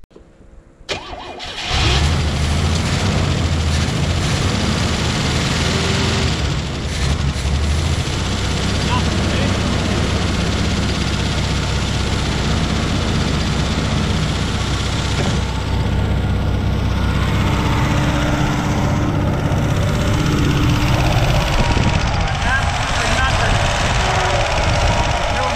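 A 1982 Pontiac Firebird, left parked in a field since 1993 and primed with gas, cranks and catches, then runs as a loud, steady rough engine roar close by for over twenty seconds.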